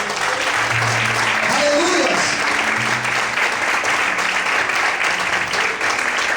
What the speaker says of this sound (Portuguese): Quantos podem aplaudir o Senhor por isso?